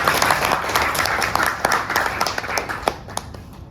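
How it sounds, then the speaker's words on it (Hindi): An audience seated at a motivational business seminar claps for themselves, a dense round of hand claps with sharp individual slaps standing out, tapering slightly toward the end. "सबसे पहले तो यहाँ बैठे हर व्यक्ति अपने लिए ताली बजाए"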